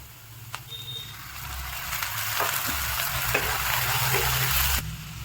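Garlic paste frying with onions in oil for restaurant-style mutton masala, a loud crackling sizzle that swells partway through, punctuated by spoon scrapes and taps, close up with a low hum underneath.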